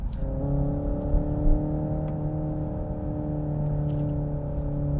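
Synthetic engine note from a 2024 Hyundai Ioniq 5 N piped through the cabin speakers in N mode at about 50 km/h, a steady droning hum with layered harmonics that lifts slightly as a button is pressed, constant and fairly close.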